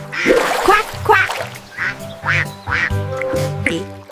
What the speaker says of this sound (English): Bubbles in the pond, an orange beak. It's a duck. Quack, quack.